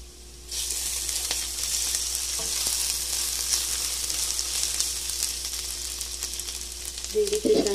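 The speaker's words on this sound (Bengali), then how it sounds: "এখন আমি আদা রসুন পেস্টটা দিয়ে দিব" Ginger garlic paste fries in a pan for a vegetable biryani, a loud, steady sizzle that starts abruptly and holds, with a few clinks near the end.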